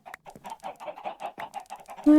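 Chickens cluck in Minecraft, a steady stream of quick, close, moderately loud clucks and bawks, ending in a brief louder burst.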